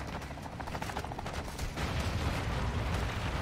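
Gunfire in the Modern Warfare 2 game campaign, a dense rapid burst of shots and heavy rumbling impacts that thickens into a louder, sustained barrage, with no voices over it.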